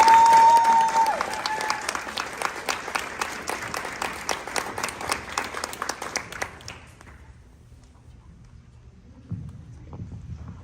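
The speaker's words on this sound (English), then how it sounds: "one more time, a huge round of applause for these amazing women with us here tonight." An audience at the "Our Choice" town hall hosted by Michelle Vallejo and Rochelle Garza breaks into loud, dense clapping that holds for about seven seconds, then tapers off into near quiet with a few faint sounds.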